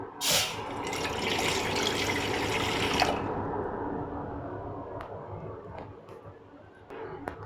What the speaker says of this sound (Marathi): बघण्यामध्ये पाणी टाकू